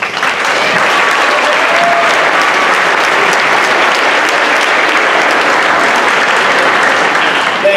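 A large audience at a 2019 school district honors ceremony breaks into loud, continuous applause for the honorees. The clapping is a close, dense wall of sound that holds steady throughout.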